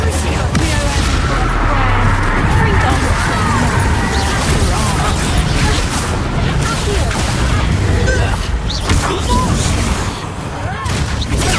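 A Confringo blasting spell explodes in the Hogwarts Legacy game amid a dense, continuous wall of loud booming and crashing combat noise, sustained for several seconds before easing slightly near the end.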